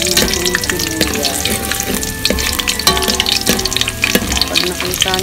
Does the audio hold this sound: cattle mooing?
no